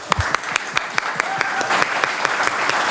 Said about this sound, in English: Please welcome me warmly with a final round of applause to our guest this evening